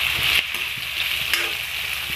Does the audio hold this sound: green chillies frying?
yes